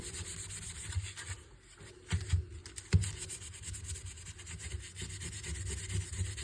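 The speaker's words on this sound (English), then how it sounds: "it's a very boring video watching somebody sand" Plastic chrome trim being hand-sanded, a steady close rubbing scrape with a few louder strokes and brief pauses, no voices.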